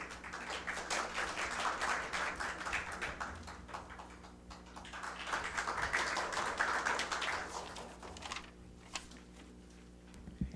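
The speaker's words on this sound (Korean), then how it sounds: "앞으로 박수로서 모시겠습니다" An audience at a Seoul city forum on urban regeneration policy applauds to welcome a speaker, with two long swells of dense clapping that fade out near the end.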